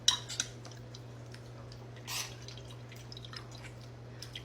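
Vinegar poured onto a balut egg, heard as a few faint, scattered drips and light liquid taps against a quiet background with a low steady hum.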